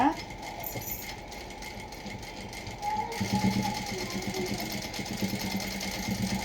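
Sewing machine stitching a plain blouse, running a lock stitch over an extra cloth strip, a steady close mechanical whirr with rapid needle rattle that grows louder and busier halfway through.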